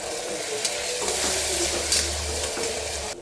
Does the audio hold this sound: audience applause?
no